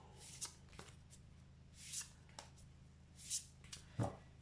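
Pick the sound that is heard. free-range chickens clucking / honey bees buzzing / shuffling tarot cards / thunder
shuffling tarot cards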